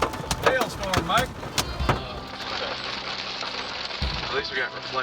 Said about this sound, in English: Hailstorm, Mike.